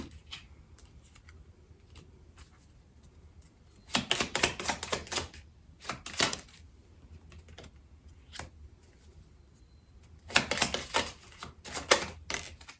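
Tarot cards handled and shuffled, giving bursts of quick riffling clicks and flicks in two main spells separated by quieter, scattered taps, close by, with no talking.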